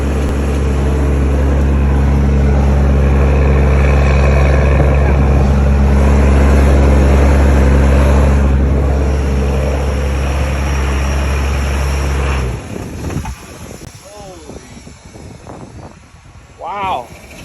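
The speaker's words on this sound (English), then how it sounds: "Got a runaway Cummins." A first-generation Cummins diesel in runaway roars loud and steady, a heavy low drone with harsh overtones, for about twelve seconds before cutting out abruptly, leaving quieter outdoor noise and brief voices.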